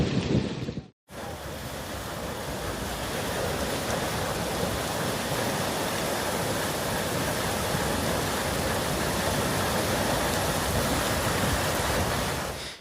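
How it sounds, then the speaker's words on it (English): Dangerously heavy rain pours onto flooded streets in Chiba and Tokyo, a steady dense roar without break apart from a brief dropout near the start, loud and close. "dangerously heavy rain, exceeding 50 millimeters an hour in some spots"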